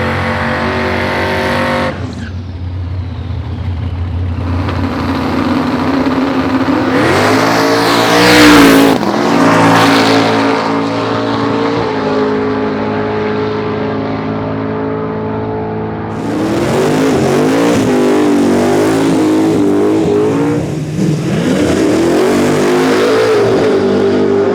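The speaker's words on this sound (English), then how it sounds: "Brandon's twin turbo small block Tirana behind me" A twin-turbo small-block race car roars down a drag strip. Its loud engine swells and drops through several revving surges over a steady, heavy rumble.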